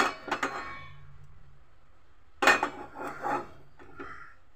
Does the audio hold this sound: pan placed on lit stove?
yes